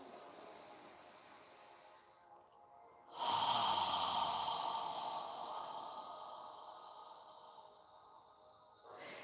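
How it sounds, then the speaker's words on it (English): Deep, slow yoga breathing close to the ear, a long airy inhale followed by a steady hissing exhale that gradually fades, with no talking. "Inhaling and exhaling completely."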